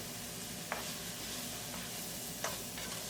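White onion, green chilli and ginger garlic paste frying together in a pan: a steady, moderate sizzle close up, with two light utensil taps against the pan and no talking.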